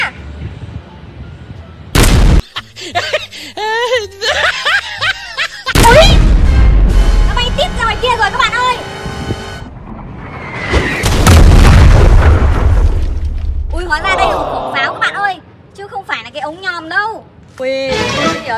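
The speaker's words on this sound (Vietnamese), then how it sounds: "vừa nãy mình bắn pháo ra ngoài biển" Video game coastal cannon shots fired out to sea, a string of sharp booming blasts with rumbling tails spread across the clip, mixed with game sound effects and chirpy cartoon tones; a person talks between the shots.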